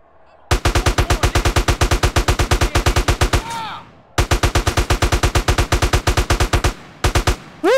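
Gunfire in GTA San Andreas comes as rapid automatic bursts, loud and close. A long stream of evenly spaced shots stops briefly, resumes for another long run, then ends with a short final burst, with whooshing ricochet-like tones in the gaps.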